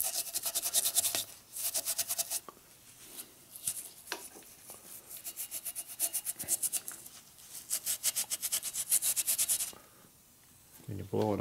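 A part on a Harley shovelhead stroker big-bore motor is scrubbed down to bare metal, giving repeated rhythmic rasping strokes that come in quick bursts with short pauses, loud and close.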